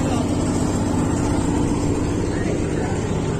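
Boat crossing the Brahmaputra river, a steady low engine drone with broadband wash of water and wind running continuously and fairly loud throughout.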